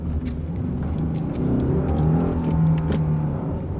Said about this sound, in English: You can hear that boxer engine.